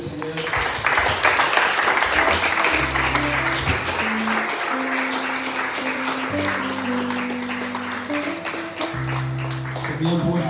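A church congregation applauds in praise, with loud, dense, continuous clapping over a sustained organ or keyboard chord progression that fills the room.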